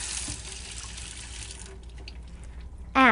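Water runs from a sink tap during handwashing as a steady hiss that cuts off partway through, leaving near quiet before a voice begins speaking at the end.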